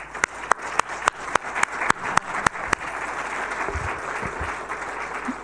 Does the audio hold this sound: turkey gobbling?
no